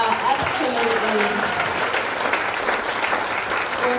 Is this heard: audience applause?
yes